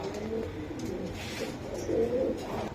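Soft, low pigeon cooing rises and falls steadily with a murmur of background activity, no clear voices.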